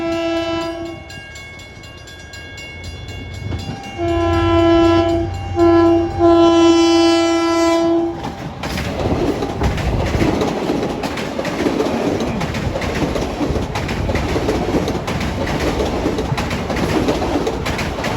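Rush hour trains pass over the New Hyde Park Road grade crossing on a busy commuter line, with repeated loud horn blasts early on, then a sustained, close rumble and clatter of rail cars rolling through for the rest of the clip.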